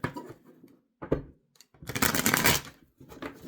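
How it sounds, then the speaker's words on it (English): Tarot cards shuffled by hand in several close bursts of riffling and flicking, separated by short pauses, with the longest burst near the middle and no talking. "I'm going to shuffle."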